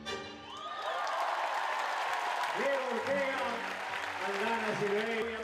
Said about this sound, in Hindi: दर्शकों ने तालियों की गड़गड़ाहट से इनका हौसला बढ़ाया।